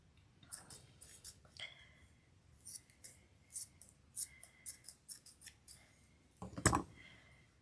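Scissors snip through craft material for a Christmas ornament shaped like a hat, giving a run of short, crisp cuts close by, sometimes in quick pairs, with one louder rustling handling noise near the end.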